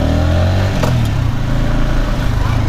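Scooter engine buzzing close by as it is ridden, a steady motor note with a brief rise in revs, no talk over it.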